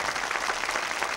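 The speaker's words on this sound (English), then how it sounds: "Amir, you deserve a great round of applause" A studio audience on a 1993 homework-help call-in show gives a brief, quiet round of applause for a student caller, a soft steady patter of clapping with no voices.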